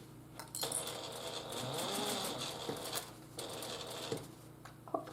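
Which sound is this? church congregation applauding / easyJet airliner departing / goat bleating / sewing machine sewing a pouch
sewing machine sewing a pouch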